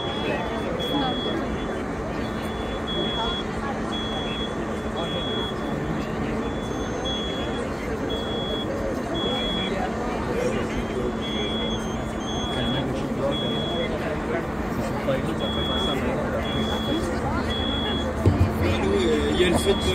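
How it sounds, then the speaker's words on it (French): Alarms beep steadily in a repeating high-pitched pattern during a fire, sounding at a distance over a constant rumble of trucks and background noise. "Vous entendez les alarmes?"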